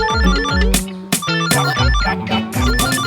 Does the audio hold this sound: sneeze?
no